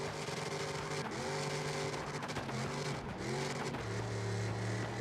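A powerful car engine revs in CarX Drift Racing Online 2, its loud, continuous drone climbing and dropping in pitch with each gear change and throttle blip, with no talk.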